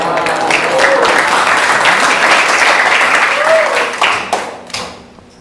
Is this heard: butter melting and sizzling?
no